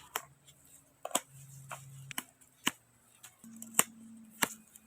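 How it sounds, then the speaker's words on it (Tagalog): Sharp metallic snips of a concave cutter pruning bonsai branches, several in a steady sequence, each crisp and close, over a faint hum. "Gamit nga itong tool natin na concave cutter, magba-branch selection na nga tayo."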